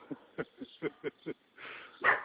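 A dog barks in a run of six short, clipped barks at an outdoor eclipse ceremony in a park, moderately near, followed by a breathy rustle and a louder final yelp-like sound.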